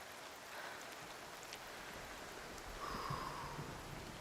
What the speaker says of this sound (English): Oh no, not the rain.